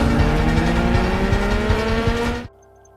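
Motorcycle riding at night in a gangster action film, a loud engine roaring steadily with rising revs for about two and a half seconds before cutting off abruptly to near silence.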